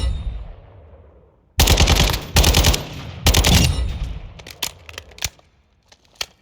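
Automatic weapon fire at a firing range in Modern Warfare II: three loud, close bursts, followed by a string of sharp single shots that thin out as a reverberant tail fades.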